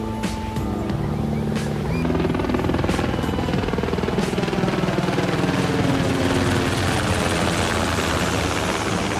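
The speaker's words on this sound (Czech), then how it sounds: "i v tomhletom videu občas uslyšíte prolítat kolem třeba vrtulník" Helicopter flying past near a beach in San Diego, heading to land at a nearby base, a loud steady rotor roar that holds throughout at close range.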